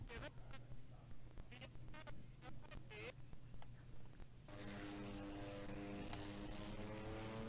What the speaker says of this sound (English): The engine's starting.